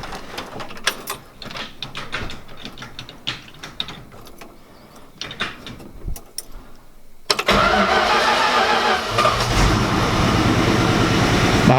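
Old truck left in a junkyard for 13 years, its engine cranking with a rapid ratcheting whir and starter clatter, then catching and running loud and rough on carburetor fuel.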